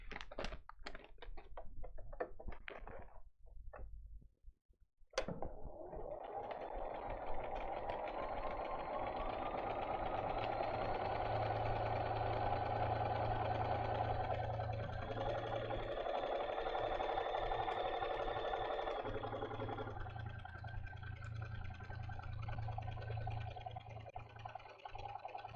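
Sewing machine stitching the last piece of a large Tuscan Sunset quilt project, a few clicks and handling sounds then a steady, close motor hum running continuously for about twenty seconds, shifting slightly in speed.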